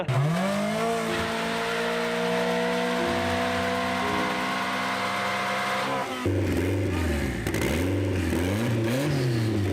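An LS1 V8 in a Nissan 300ZX revs up and holds high, then drops into rough, wavering throttle blips, loud and close, its tone somewhat ragged.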